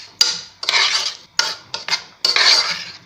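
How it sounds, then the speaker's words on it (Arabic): A spoon scrapes and clinks against a bowl while a salad is tossed with cumin and olive oil, in several distinct close strokes separated by short pauses. "صافي البنات كنخلطو كلشي مزيان."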